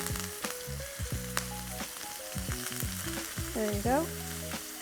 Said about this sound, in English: I'll drop in my thyme and rosemary